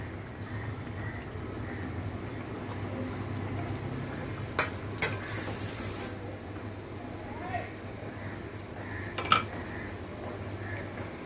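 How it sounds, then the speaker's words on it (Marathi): An Agri-style egg curry simmers in a pot while being stirred, with low bubbling, occasional spoon and metal clinks against the pot, and a voice talking intermittently over it. "जबरदस्त असं ढवळून घेऊया"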